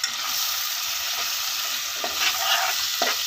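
Steady sizzling from a hot pan with soft scraping strokes as a curry masala for egg curry is stirred, close up, no voices.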